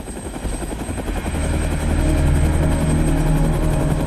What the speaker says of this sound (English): Then, she hears approaching helicopters.